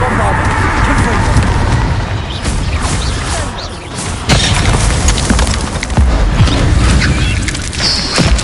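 Spell blasts in Hogwarts Legacy, including Confringo, Descendo and Bombarda, cast in a cavern: repeated loud booms and crashing impacts with crackling debris, spread irregularly across the stretch.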